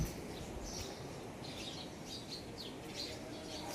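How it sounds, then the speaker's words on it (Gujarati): Small birds chirp and tweet in short bright bursts, scattered and moderately distant, over a calm, quiet background in a spacious temple courtyard. "સરસ પક્ષીઓનો અવાજ આવે છે."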